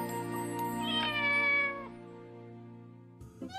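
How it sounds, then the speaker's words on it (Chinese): A pregnant cat at a veterinary X-ray visit gives a single drawn-out, rising meow close up. A brief scuffle follows near the end, and no one talks. "小玉别紧张啊，我们只是照一个 X 光，然后看看你有几只小猫咪，你有几个小 baby。"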